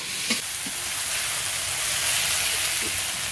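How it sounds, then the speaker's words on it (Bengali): Spice paste with tomato fries in oil for ghugni, giving a steady, close, hissing sizzle with faint crackles throughout and no voices. "মশলা থেকে তেল ছেড়েছে, মশলাটা কষানো হয়ে গেছে"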